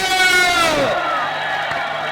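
A large crowd at a Bageshwar Dham religious gathering shouts together in a loud, sustained collective cry that drops in pitch and fades after about a second.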